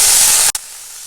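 Green chillies hit hot oil in a pan while cooking gongura chicken biryani, setting off a loud, close, hissing sizzle. The sizzle cuts off abruptly halfway through and settles into a quieter, steady hiss.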